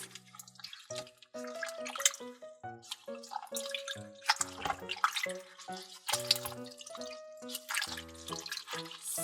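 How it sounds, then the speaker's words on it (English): Water splashing and dripping while bath paint is washed off a toy Mickey figure, with irregular drips, plinks and gurgles mixed with bright tonal, almost musical sounds throughout. "towel is going to help us wash off all the bath paint from Mickey and his friends"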